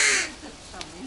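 A young crow gives a short, scratchy caw close by, with a faint second call following, over light background noise and nearby voices.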